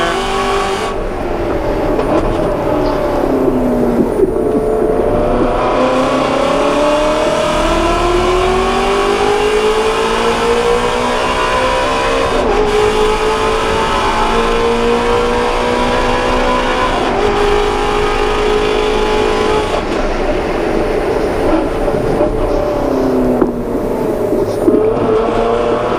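Ford Mustang GT350 engine at full throttle on the Circuit of the Americas race track, a loud continuous roar rising in pitch through the gears with brief shift dips, sustained and close throughout.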